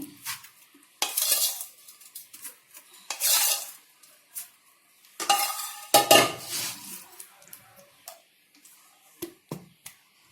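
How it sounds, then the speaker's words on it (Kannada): Puffed rice (mandakki) is tossed with cooled seasoning in a pan, making intermittent dry rustling bursts and scrapes separated by quiet gaps, with light clicks of a spoon against metal. "ಈಗ ನಾನು ಇದು ಮಂಡಕ್ಕಿ ಕಲಿಸ್ತಾ ಇದ್ದೀನಿ"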